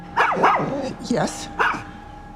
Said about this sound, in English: Apologies about the dogs.